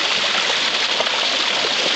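Stream water pours steadily over a homemade micro hydro wheel built from a 20-inch bicycle rim, 3-foot plywood disc and half-cut 4-inch PVC paddles, a continuous broadband rushing close by with no voices.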